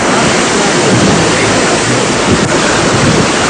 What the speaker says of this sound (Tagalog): malalakas na alon na humampas sa pier ng Vera, Catanduanes